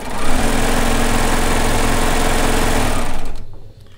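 Serger stitching the shoulder seam of a soft kimono, a loud continuous close whir running steadily for about three seconds before stopping abruptly.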